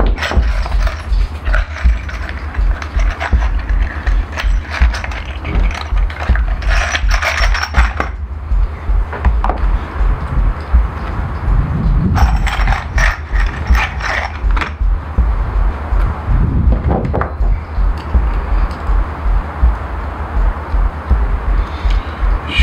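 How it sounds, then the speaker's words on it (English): Tap being run by hand through a cross-threaded bolt hole while fitting an ARB Frontier 180-litre fuel tank to a LandCruiser LC79, giving steady repeated ratcheting clicks and metallic turning sounds up close, with no talk. "I'm just gonna get a tap and run a tap for that."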